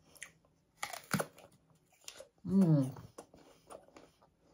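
A small, crunchy organic apple bitten and chewed close to the mic, giving a few sharp crunches followed by a short stretch of talking.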